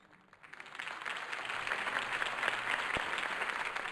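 Sustained crowd applause in a Batman video game, dense clapping rising quickly from quiet and holding steady at a fairly loud level.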